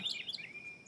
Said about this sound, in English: on my deck where I can hear the birds singing